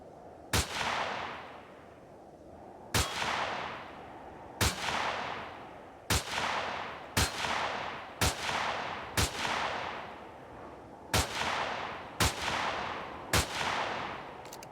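Gunfire in the Empyrion Reforged Eden game as a vehicle is shot at: about ten sharp, loud single shots at irregular intervals, each trailing off into a long echoing decay, and no voices.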